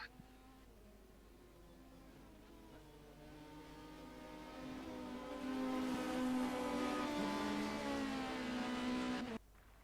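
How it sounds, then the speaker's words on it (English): A GT3 race car in the rFactor 2 sim racing game approaches and passes on a track at Silverstone during an endurance race, its high buzzing engine note rising steadily in volume before cutting off abruptly. "there's the leading GT3 car coming through, and he gets out of the way"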